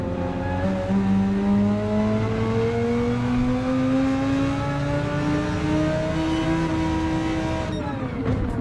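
A race car in a racing video game laps the Nürburgring, its engine note climbing steadily through a long loud rising pull with strong harmonics, then dropping sharply as it shifts near the end, with no talking over it.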